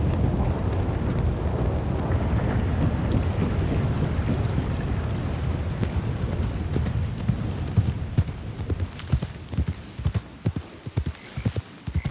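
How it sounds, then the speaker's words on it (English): A thunderstorm rolls in within the video game WildRP: a deep, continuous rumble of thunder and storm noise that thins toward the end into scattered sharp cracks and clatters, with no talk. "Storm's rolling in."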